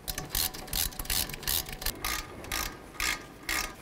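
A ratchet tightens the brake caliper bolts on a Ford Mustang during front hub and bearing work, producing about a dozen quick, evenly spaced clicking strokes close to the mic.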